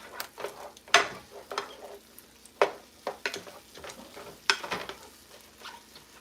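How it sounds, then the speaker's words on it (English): Turkey taco filling being stirred in a pan, a spoon scraping and tapping the metal in irregular strokes over a soft sizzle, close and fairly clear with no talking. "So we're going to give it a little stir."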